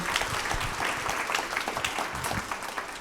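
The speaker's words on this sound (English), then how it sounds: "Let's give Jamila and Jasmine a round of applause" Brief, moderate applause from a lunchtime history talk audience honoring two guests, a steady patter of clapping hands lasting about three seconds.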